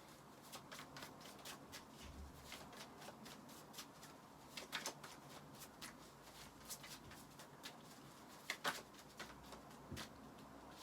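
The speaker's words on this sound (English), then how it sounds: "So I'm going to pull one more card from this deck." Cards riffled and slid from a deck in a series of quick, soft flicks and patters, close but quiet, with a few sharper snaps near the end.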